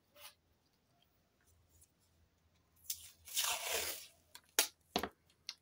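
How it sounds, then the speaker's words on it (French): Adhesive tape rips off a roll in a loud, drawn-out tear, followed by a few quick, sharp snaps and crinkles up close. "va y mettre un petit bout de scotch."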